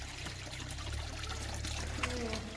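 Water trickles and splashes steadily from a large stone village fountain, with people talking quietly nearby over a low rumble.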